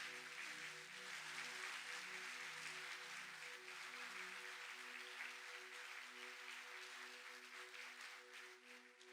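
A church congregation claps in sustained applause, a dense, steady patter of many hands lasting the whole stretch, with a held organ or keyboard chord beneath it and the clapping thinning slightly toward the end.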